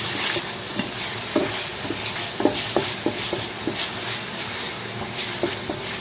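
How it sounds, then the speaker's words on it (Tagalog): Pig brain sizzles steadily while it cooks in a pan for a home-style Cebu osdogua, a dense continuous frying hiss with scattered light stirring clicks throughout and no talk. "Naluluto na yung utak."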